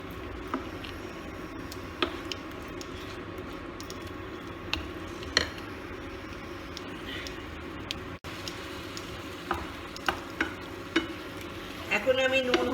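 Chicken fries in a pan under a steady sizzle, with occasional spoon clicks and scrapes as it is stirred, close and moderately quiet.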